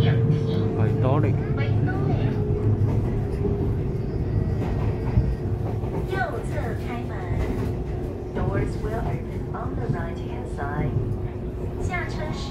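A Taiwan Railway EMU500 four-car electric commuter unit on the Yilan line runs with a steady, close rumble and a faint electric whine. Voices are heard faintly over the train throughout.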